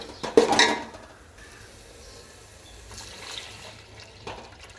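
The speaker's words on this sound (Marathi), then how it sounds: "तर आपलं हे येळवणीचं पाणी असतं ना डाळ शिजलेलं, आपण तेच टाकूया." Leftover cooking water from boiled dal is poured into a pot of spiced Maharashtrian amti curry: a short, close splashing gush near the start, then fading into a low, steady simmer-like hiss.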